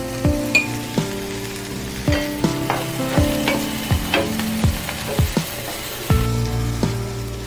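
Capsicum and mixed vegetables for fried rice are stir-fried, a spatula striking the pan in a regular series of sharp metallic clanks, about one per second, over a soft sizzle.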